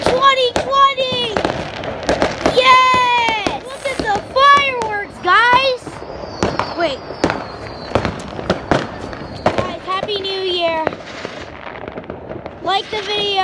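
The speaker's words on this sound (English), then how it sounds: "Look at the rockets." New Year fireworks rockets burst in a dense run of sharp, loud cracks and booms, some near and some farther off, while excited voices, including children, talk and shout throughout.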